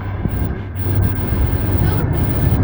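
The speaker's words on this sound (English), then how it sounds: "The size of this train." A large train passing by on a snowy journey to Lapland, a loud, close, continuous low rumble that builds and holds steady, with brief voices over it.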